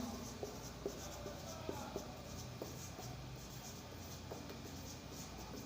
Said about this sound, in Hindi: सबसे पहले मैं डोमेन की डेफिनेशन लिख रहा हूँ।